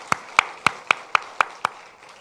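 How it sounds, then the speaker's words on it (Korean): A church congregation at a Sunday morning service claps in unison, seven evenly spaced, crisp claps in a steady rhythm, with no talking over them. "힘차게 격려의 박수를 한번 하도록 하겠습니다"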